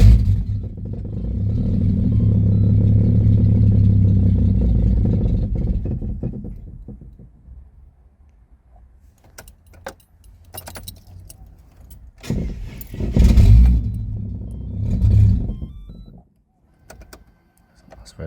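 A turbocharged Ford AU Falcon running during tuning: a loud, steady low engine drone that fades away, then rattles and jangling, followed by a short burst of revving and another fall-off near the end, with a voice briefly heard.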